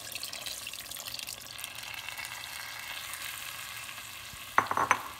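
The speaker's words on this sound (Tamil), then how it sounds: "தேங்காய் பால் சேர்த்த பிறகு வந்து கிரேவி வந்து கொதிக்க ஆரம்பிச்சிச்சு" Chicken gravy with coconut milk, Thanjavur style, bubbling on the stove as a steady soft hiss, with a few sharp utensil clinks near the end.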